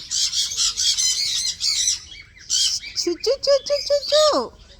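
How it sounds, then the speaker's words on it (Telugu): Several birds feeding on guavas squawk and chirp close by in harsh, repeated calls, with rapid strings of short notes following one after another. "రకరకాల బర్డ్స్."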